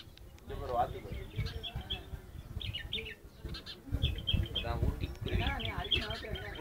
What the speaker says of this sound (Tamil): குருவி